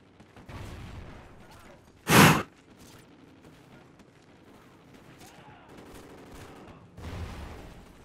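A single loud shotgun blast in a first-person shooter game stands out sharply against quieter game sounds and low speech.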